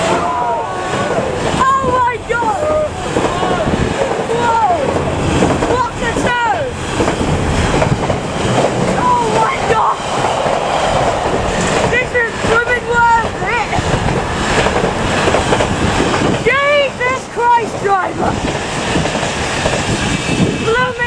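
A Freightliner Class 66 locomotive, number 66420, on a non-stop power haul sounds its five-tone horn. Loud, repeated rising horn tones ring out over the roar of the passing train, with people talking close by.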